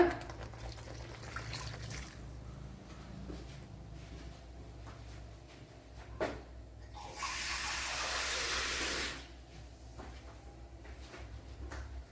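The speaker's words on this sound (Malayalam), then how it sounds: "ഇനി ആവശ്യത്തിനുള്ള വെള്ളം ഒഴിച്ചു കൊടുക്കുക." Water pours into a pot of okra curry in a home kitchen, a steady splashing rush lasting about two seconds over quiet background clatter.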